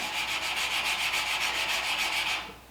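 Sandpaper rubbed by hand along a steel knife blade at 220 grit, a steady run of rhythmic back-and-forth strokes, close and fairly loud, that stops near the end.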